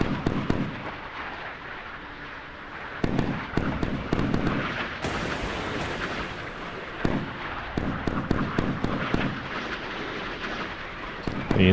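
Missile interceptions and explosions in the naval combat game Sea Power, set in the Baltic, come as repeated booming blasts and crackling bursts over a continuous rumbling battle bed.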